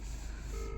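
Excavators at an illegal riverbed mining site on a winter day give off a steady electronic reversing beep, starting partway through and holding over a continuous low engine rumble.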